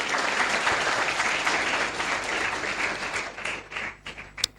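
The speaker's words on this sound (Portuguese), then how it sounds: "Você pode aplaudir o Senhor Jesus?" A church congregation claps together in a sustained, fairly loud burst of applause that thins out and tapers off toward the end, with a few scattered final claps.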